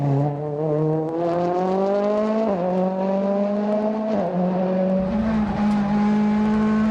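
A Ford Fiesta WRC rally car at Rallye Lyon-Charbonnières, its engine loud and close, revving hard through rising gear pulls with quick shifts between them.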